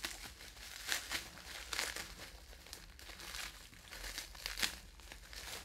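Plastic bag being opened around a vintage Star Wars Kenner action figure, a run of close crinkling and tearing rustles in bursts, with no talking.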